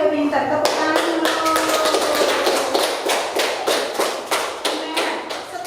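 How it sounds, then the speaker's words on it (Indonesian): Children in a classroom clap their hands in a fast, dense burst of claps that rises in volume and then tapers into separate slaps, with voices heard alongside. "tepuk tangan dulu."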